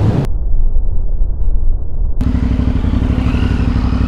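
An MT-07 motorcycle pulling a wheelie roars loudly and close, its engine note rising sharply partway through after a muffled stretch, with no talking.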